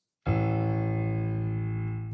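A single low A2 piano note struck once, ringing with a deep, full tone that sustains and slowly fades over about two seconds.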